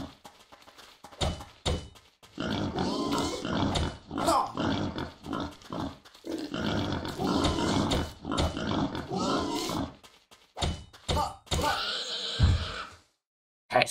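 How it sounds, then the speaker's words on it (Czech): A pig squeals and grunts in the video game Tree of Life: Oddria, loud harsh animal cries in long stretches broken by short thumps and gaps, close and prominent. "zkusíme tady sejmout nějaký prase"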